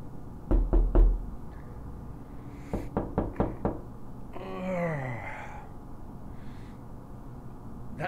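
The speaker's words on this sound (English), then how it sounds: "It literally sounds like somebody's knocking on my bedroom door." Knocking on a door inside the Nevada State Prison: a loud cluster of three heavy knocks, then a quicker run of four lighter raps, followed by a faint creaking moan, with no talking.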